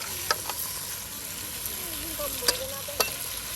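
Potatoes and beans are stir-fried with spices in a pan, a steady low sizzle with occasional sharp taps of the spatula against the pan, faint and close, with no talk.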